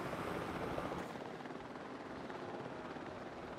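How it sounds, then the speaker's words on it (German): A helicopter in the video game Jurassic World Evolution lifts off with a steady, rushing rotor roar that stays constant and fairly faint, easing slightly after the first second. "gleich fliegt der Heli los"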